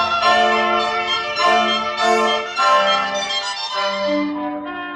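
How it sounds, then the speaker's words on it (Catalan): Pealing bells in a musical composition, overlapping ringing tones struck in repeated swells, each decaying into the next, heard clearly and alone. "Campanes al vol."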